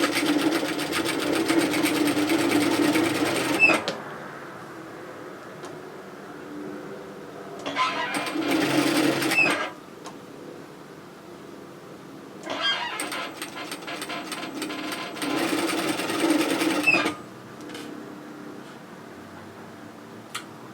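A sewing machine stitches bib overalls in fast whirring bursts, running about four seconds, then two, then shorter spurts, separated by quiet pauses; the motor hum is close and even, with a few small clicks between runs.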